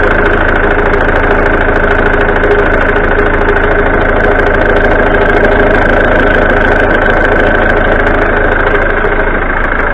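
A 1989-90 Ford Fiesta Ghia that had stood unused since 2014 runs with a loud, steady idle and a constant engine drone close to the microphone, with no talking.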